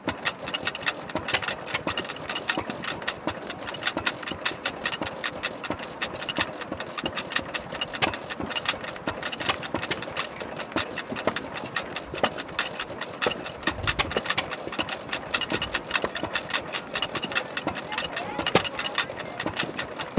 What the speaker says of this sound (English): A 1926 Stover gas engine that I restored.